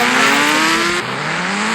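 A loud Suzuki Hayabusa motorcycle engine in a video game revs steadily, its pitch climbing, then dips and rises again as if shifting gear, with a smooth synthetic quality.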